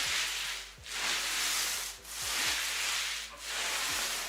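A paint roller loaded with decorative putty plaster rolls across a wall in four smooth, even rasping strokes, each separated by a brief pause, close and steady with no talking.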